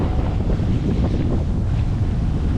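Strong wind of 20 to 25 knots buffeting the microphone on a boat heading toward a canal, a constant loud roaring rumble with no talk.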